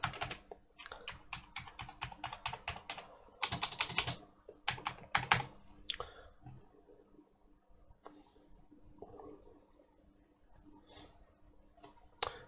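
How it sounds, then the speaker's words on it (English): Rapid clattering keystrokes on an Atari 65XE/130XE computer keyboard come in quick bursts, then thin to sparse isolated taps, close up and fairly quiet. "the keyboard works"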